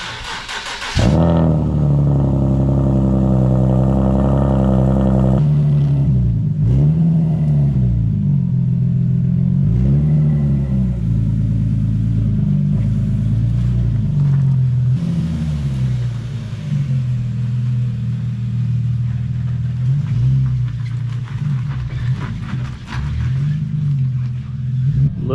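A drift car's engine runs steadily and close, rising and falling as it revs and shifts through gears while being driven, with a constant low rumble throughout.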